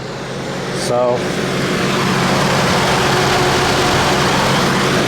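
A GMC Envoy with over 200,000 miles cranks over and settles into a steady, close idle that runs continuously, with a brief voice at the start.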